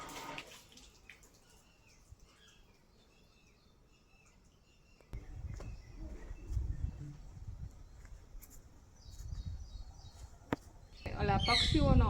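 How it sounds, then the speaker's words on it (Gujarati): Birds chirp faintly and intermittently at a Hanuman temple in Talgajarda during Guru Purnima, thin calls scattered over low background rumble and movement, growing busier near the end. "ઓલા પક્ષીઓનો અવાજ આવે છે."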